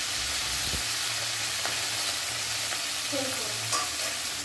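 Drumstick leaves hitting hot oil and spices in a wok give a steady, close sizzle and fry hiss, with light stirring scrapes and a few clinks throughout.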